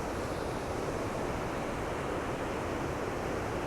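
Ocean surf rolls in at Ocean Beach, San Francisco, a dense, continuous roar of breaking waves mixed with wind buffeting the microphone, with no voices.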